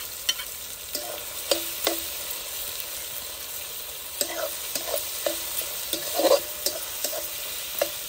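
Tomato and garlic paste sautéed with onion in a pan: a soft, steady sizzle with repeated light spatula taps and scrapes at an uneven rhythm.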